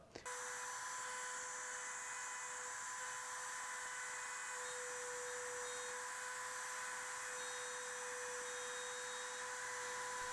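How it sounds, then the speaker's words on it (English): A router cutting a hinge groove into a wooden blanket chest whines steadily and loudly for about ten seconds, a constant high-pitched motor drone with a sustained tone and no pauses or speech. "Whenever you make a pass with the router to remove waste like this"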